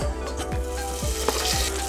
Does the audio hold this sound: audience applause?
no